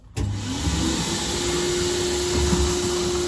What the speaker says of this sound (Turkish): ben de izlerken süpürge sesi duymak istemiyorum